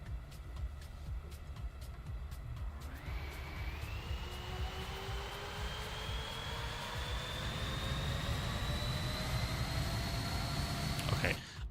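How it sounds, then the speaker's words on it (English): Airliner jet engines in the Microsoft Flight Simulator 2024 game spool up with a rising whine, then hold a loud, steady roar and climbing tone over a broadband rumble for most of the stretch. "Man, those airplanes are still stupid loud."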